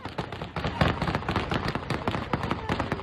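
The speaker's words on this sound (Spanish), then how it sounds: "primeros disparos para dispersar una protesta en Jalalabad" A rapid, irregular volley of sharp gunshots cracks out at a protest in Jalalabad, dozens of bangs in quick succession with crowd noise underneath, loud and dense throughout.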